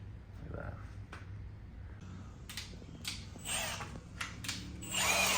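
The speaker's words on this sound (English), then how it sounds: "So we're gonna be drilling through these wheels." A power drill works on dirty truck wheels removed for a long-travel Toyota Tacoma build, giving several short bursts of whirring and grinding that grow louder toward the end over a steady low background hum.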